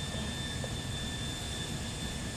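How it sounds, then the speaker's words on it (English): A stolen helicopter in Grand Theft Auto IV drones with a steady, loud engine and rotor roar. Two thin whine tones hold above the rumble, which stays unchanged and alone throughout. "I just stole a helicopter for you."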